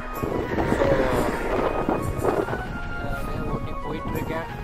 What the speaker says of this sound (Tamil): செம்ம விண்டுங்க, காற்று ரொம்ப அடிச்சுக்கிட்டே இருக்குது